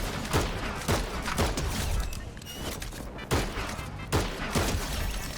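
DMR rifle fire in the video game Fortnite, several sharp shots in irregular bursts over dense, constant game sound.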